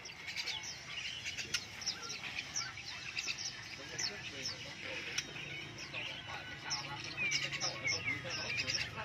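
Caged songbirds such as laughingthrushes, bulbuls and red-whiskered bulbuls chirp and whistle continuously at a Lang Son ornamental bird market, many overlapping calls at moderate distance over a busy crowd murmur with people talking.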